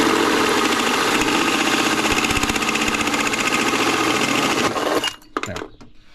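Power tool cutting dry metal, no oil, on a part of a 1988 pickup truck, a loud steady grinding whine for about five seconds that stops abruptly, followed by a few scattered clanks.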